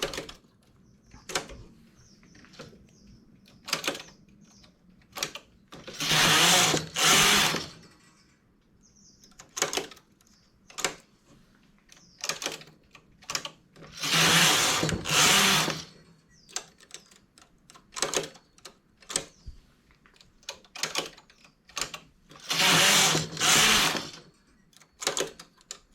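A knitting machine carriage works rows of a bikini piece, with sharp clicks and clacks punctuated by three loud, sustained whooshing passes of the carriage spaced through the recording.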